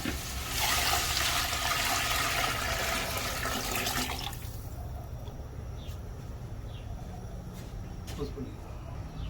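Water pours steadily and noisily into a pot of rice porridge (kanji) at first, then settles into a softer continuous rush with faint clinks.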